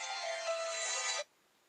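A mobile phone ringtone plays loud and steady for just over a second, then cuts off abruptly into quiet, in a Jamaican drama scene.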